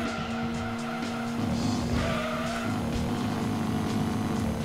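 A car in Gran Turismo 2 skids and slams into a wall, with steady engine drone and tire squeal running loud throughout the racing game's audio.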